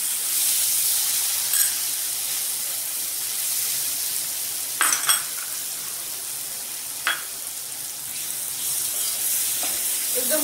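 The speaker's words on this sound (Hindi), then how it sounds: "और अब इसी कढ़ाई में हम ये थोड़ा सा मावा भून लेंगे।" Mawa (khoya) roasting in ghee in a kadhai over a low gas flame gives a steady close sizzle and frying hiss throughout, with a few brief stirring scrapes.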